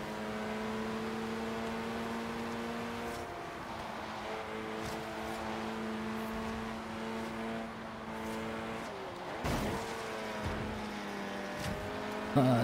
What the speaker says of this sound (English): this is the Audi S1, I think they call it. It's their hot hatchback